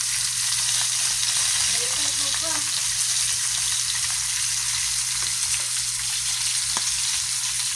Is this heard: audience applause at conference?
no